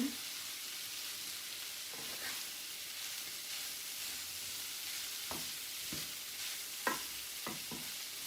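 Spices are stirred into a casserole mixture, a soft continuous scraping and swishing with a few brief clinks of the utensil against the bowl, steady and fairly quiet, with no talking.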